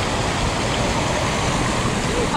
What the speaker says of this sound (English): because it rained, the river is pretty high